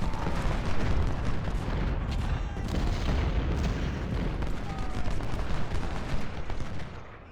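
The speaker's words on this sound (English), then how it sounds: "come on, hit the artillery." Artillery fire in the video game Ultimate General Civil War booms repeatedly, heavy cannon blasts and rolling rumbles overlapping into a dense, loud barrage that carries on throughout with no voices over it.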